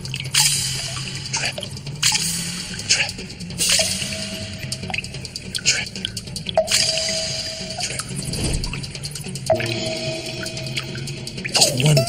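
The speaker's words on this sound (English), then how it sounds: "Just one little drip at a time, one little drip at a time." Water dripping in a cave: slow, irregular single drips ringing out with hollow, echoing plinks, close and clear against a quiet background with no voices.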